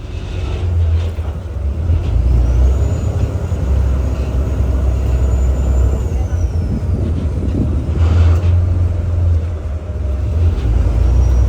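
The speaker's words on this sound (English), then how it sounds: "I almost got hit by a car." A car rushing close past on a street on Lido island near Venice, a loud rumbling swell of road noise over ambient hum, with a second pass later.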